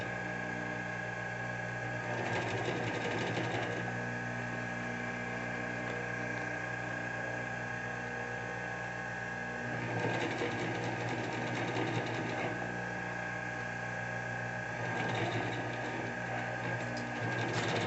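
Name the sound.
sewing machine stitching a waterproof bag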